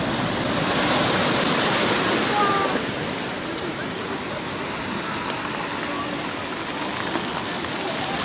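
Strong sea waves break on a stony beach at Batumi in May, a loud, continuous roaring surf with churning wash that surges early and then settles into a steady rush.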